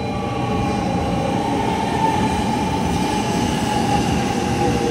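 A steady, heavy rumble of a 500 series Shinkansen train arriving at Okayama Station, with faint high whining tones above a dense low roar.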